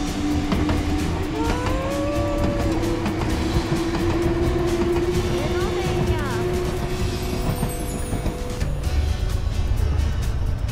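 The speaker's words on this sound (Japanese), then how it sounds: "あっちに電車がある" A train rumbles past with a loud, continuous roar and drawn-out squealing tones, while people talk over the noise.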